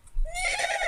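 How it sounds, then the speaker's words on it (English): A horse sound effect in a children's read-aloud picture book: a short, loud whinny that rises and then holds a shaky neigh for under a second, with no talk over it. "I see a blue horse looking at me."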